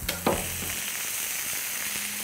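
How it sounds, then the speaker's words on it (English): Chicken sizzles loudly on a hot flat top griddle, a constant crackling hiss with a few sharp pops and scrapes near the start. "Now we're moving over to the flat top griddle for that sizzle."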